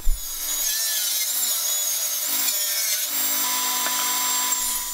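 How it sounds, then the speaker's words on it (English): A power saw cuts mitred side pieces from old veneered doors, starting with a sharp knock and then a steady, close saw whine and rasp as blade meets wood, with no talking. "I'm now cutting all the side pieces parallel with mitered edges."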